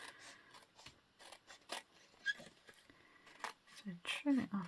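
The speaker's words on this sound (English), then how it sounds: "So trim it off around the edge" Scissors snip repeatedly close by while card is trimmed around the edge for a beginner handmade greeting card, short crisp cuts with paper rustle and a voice talking between them.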